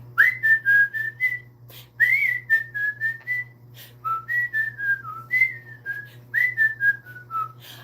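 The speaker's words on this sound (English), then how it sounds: "I whistle while I work." A person whistles a light tune alone, a string of short melodic phrases with brief pauses between them, close and clear over a faint low hum.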